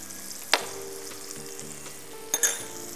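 Tomatoes stir-fry with ketchup and fish sauce in a pan for a spicy tofu and mushroom dish. A soft, steady sizzle runs throughout, broken by a few sharp clinks of a utensil against the pan.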